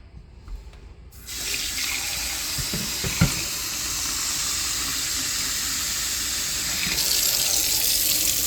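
Water pours steadily from a stainless steel reverse osmosis filter faucet into a sink after a short quiet start, a close, even hiss and splash that grows slightly louder toward the end, with no voices.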